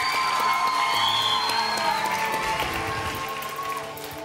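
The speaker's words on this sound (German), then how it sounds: "Applaus für Janine!" At a children's singing contest, the audience claps and cheers for a young contestant while music with sustained tones plays alongside, and the applause tapers slightly toward the end.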